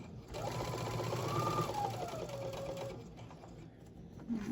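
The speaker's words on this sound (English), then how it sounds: "I'm gonna do 1/4 inch seam allowance. Starting, I'm gonna back stitch there." A sewing machine runs continuously while back stitching the start of a 1/4 inch seam on a mini tote bag, a close, steady mechanical whir for about three seconds that then quiets, with no talking.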